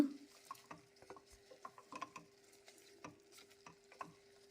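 Salted mushrooms being stirred in a pan, a utensil scraping and clicking in an uneven run of light taps, close and fairly quiet with a steady hum beneath.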